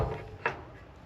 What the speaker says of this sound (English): So you shut the door